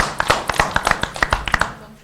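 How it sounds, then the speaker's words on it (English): Scattered hand claps from a small group at a school board meeting, irregular and fairly close, running about two seconds before fading out. "Now we clap."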